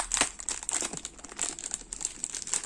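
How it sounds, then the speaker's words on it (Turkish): Plastic bag crinkling as a pine-green iPhone case is taken out of its packaging, a steady run of close, dry rustles and crackles lasting a few seconds with no talking. "poşetinden çıkaralım"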